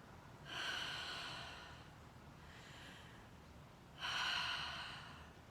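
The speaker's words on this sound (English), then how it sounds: "Inhale as you come up, exhale as you come down." Breathing during a pull-down exercise in an at-home upper body workout: two clear breaths, a loud airy one, a fainter one and then another loud one, close and alone with no talking.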